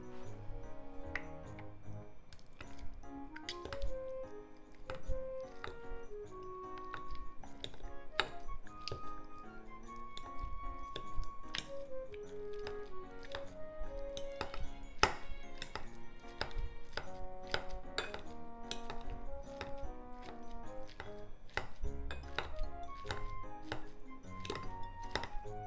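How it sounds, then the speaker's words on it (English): Six boiled eggs mashed in a bowl with a masher or fork, giving a run of soft, repeated taps and thunks against the bowl beneath steady background music. "Using masher or fork, let's mash them."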